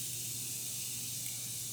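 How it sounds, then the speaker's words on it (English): Morphe setting spray misted during a makeup routine: a continuous soft airy hiss that stays even and close for under two seconds, with no voices over it. "I'm going to go in with the Morphe Setting Spray"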